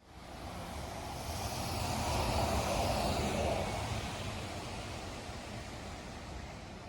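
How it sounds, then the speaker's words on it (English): An electric bus passes within a metre on an Amsterdam street, its motor nearly silent, leaving a steady broadband rush of tyres on asphalt that swells to a peak midway and slowly fades, with no voices. "That bus passed me at less than 1 meter away from me, and all you could hear was the noise of the tires on the asphalt."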